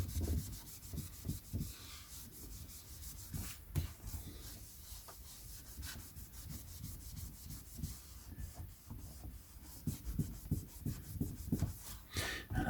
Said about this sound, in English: I want to make sure you can actually see the polishing happening,